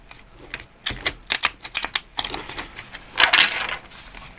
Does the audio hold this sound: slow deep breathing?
no